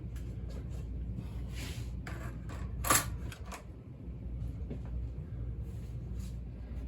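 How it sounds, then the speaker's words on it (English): An electrified Hafner toy train runs along its track with a steady, close rattling hum, broken by a brief sharper clack near the middle, with no talking. "I needed to get this electrified, which now it runs just like any other good running marks"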